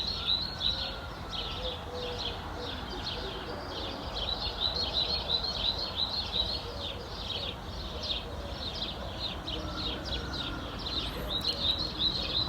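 A busy outdoor bird chorus: sparrows and blackbirds chirp in rapid repeated bursts, with wood pigeons cooing and a distant rooster, over a constant soft background hiss.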